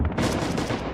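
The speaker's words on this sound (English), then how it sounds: "the actual German artillery on this left-hand side here, dropping in" German artillery shells landing in the Red Orchestra 2 battle at Tula Outskirts come through as a dense, continuous roar of booming blasts with rumbling low end and hissing debris, loud throughout with no pauses.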